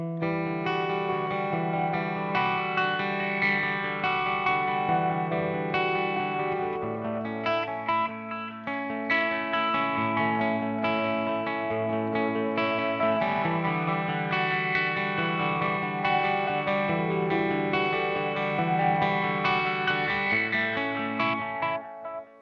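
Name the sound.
Eventide H90 sweep echo and phaser guitar effect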